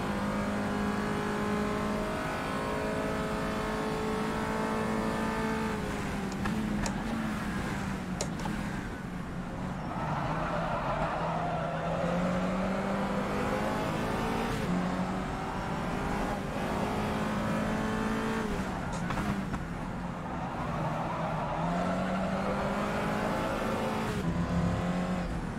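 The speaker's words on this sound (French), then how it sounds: "Le son du moteur est largement suffisant." Peugeot 208 GTI Cup engine in the rFactor 2 racing simulator: a loud, continuous engine drone that climbs through the revs, drops at gear changes and lifts off the throttle for corners, with no talking.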